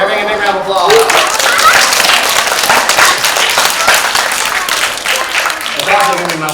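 A crowd breaks into loud, dense applause for a dog's trick at a live animal show. Mixed cheering and voices continue throughout the steady clapping.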